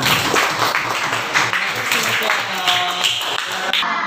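Classroom applause from sixth-grade pupils praising a classmate's correct answer in a lesson on negative integers, brisk clapping from a group of children that runs throughout, with a teacher's voice speaking over it.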